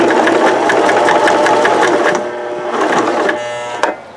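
A sewing machine runs fast and loud with rapid rhythmic stitching, then slows and strains in brief bursts as it climbs over nine layers of jeans fabric at a hem corner.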